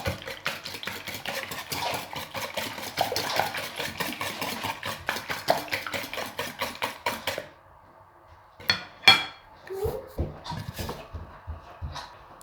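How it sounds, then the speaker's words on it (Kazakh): Pancake batter stirred in a bowl, a steady run of quick scraping, clinking strokes for about seven seconds, then a pause and a few scattered knocks and taps against the bowl. "И бәрін жақсылап араластырамыз."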